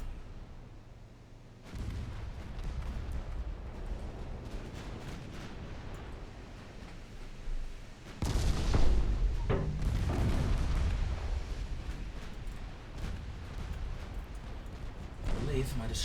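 Heavy naval gunfire in Ultimate Admiral Dreadnoughts, with booming artillery blasts and rumbling explosions that grow louder midway and continue beneath someone talking throughout.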